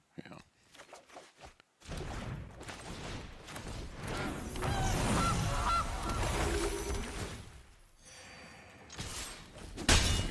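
A goose honk effect from a card in the Magic: The Gathering digital card game, several quick honks and game clatter after a brief quiet start, loud and near, with a person talking at times.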